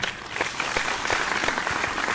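An audience at a televised singing competition applauds a performer as he leaves the stage, a steady wash of clapping from a crowd at moderate distance, even in level throughout without talk.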